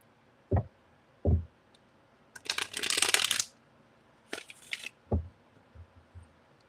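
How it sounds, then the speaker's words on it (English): Tarot cards are shuffled in a quiet room: a few sharp taps, then a longer riffling burst and another short shuffle, ending with soft knocks on a table. The sound is close and there is no talk. "Okay, so I'm going to shuffle"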